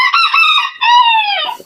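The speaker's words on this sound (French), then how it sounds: "Et la poule est là." A chicken gives a loud, close, drawn-out call in two bright, nasal phrases, with a brief break between them, alone with no other sound around it.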